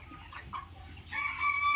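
Chickens on a small poultry farm clucking softly nearby, a few short calls rising toward the end over a low background hum.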